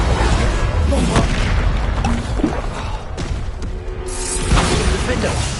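Booming spell explosions in the Hogwarts Legacy video game, a dense, continuous roar of magical blasts and crashes during combat with repeated impacts throughout.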